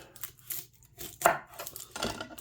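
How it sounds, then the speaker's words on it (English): A knife chops an onion, root end left on, on a board in steady, quick strokes, close and crisp, with no voices. "And it holds your onion together for you for chopping."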